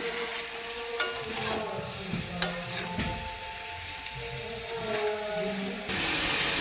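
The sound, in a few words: frying vegetables with turmeric in a pan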